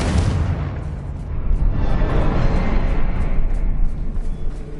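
A Confringo blasting spell in Hogwarts Legacy, a video game, erupts into a loud, sustained rumbling boom with dense low-end roar that holds for several seconds without voices.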